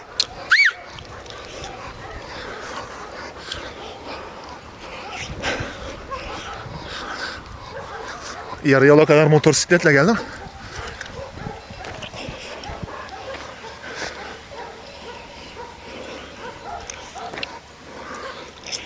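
Several dogs, one of them lame in a leg, bark and whimper in short yips outdoors near a river crossing, while someone talks and hushes them over steady background noise, with a louder burst of yelping midway.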